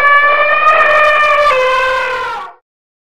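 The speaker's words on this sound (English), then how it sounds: "Elephant." An elephant trumpets in one loud, close, brassy blast held for over two seconds, then stops abruptly.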